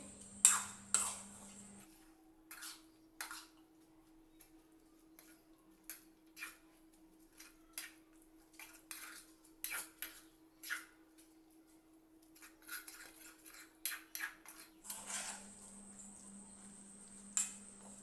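Mustard paste is mixed in a bowl with utensils, producing quiet, irregular clicks and taps over a low steady hum.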